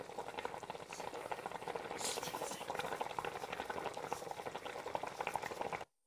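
A pot of dried tofu, enoki and other mushrooms for a spicy vegetarian hotpot with rice noodles simmers over medium heat. Steady close bubbling and hissing runs throughout, then cuts off abruptly.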